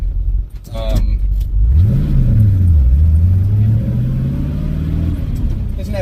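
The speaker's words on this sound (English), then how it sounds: "even with straight-through mufflers on it, it's not going to be a very loud car" A car with a stock engine, no cam, stock manifolds and Magnaflow straight-through mufflers revs up and back down in one long swell, then rises again gradually; the exhaust sounds close and moderately loud, with a brief metallic jingle near the start.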